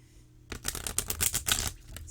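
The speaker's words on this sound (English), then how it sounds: "They cut shuffle like a dream." A Grimalkin's Curious Cats tarot deck being cut shuffled, giving a close, quick run of soft card slaps and riffling flutters that lasts about a second and a half after a quiet start.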